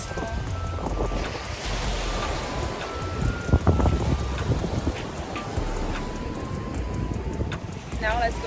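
Ocean waves surging onto the end of Praia dos Amores beach in Búzios, with steady wind buffeting the microphone and a voice talking over the surf.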